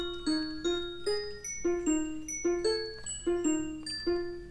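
Minecraft note blocks play a melody as a steady run of bright, plinking tones, one struck note roughly every half second, each decaying quickly, clear and close with no talking.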